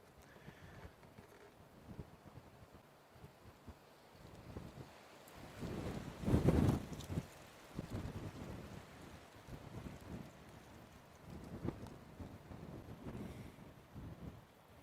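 Wind from a dust storm on a safari game drive buffets the microphone in uneven, rumbling gusts, with one stronger blast midway and no voices.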